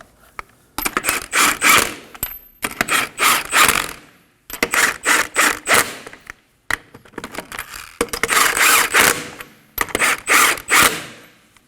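Lug nuts are run onto the front wheel of a Kia Optima with a power tool or ratchet. The clip holds repeated loud mechanical whirring and ratcheting bursts, several in a row, with sharp clicks and short silent pauses between them.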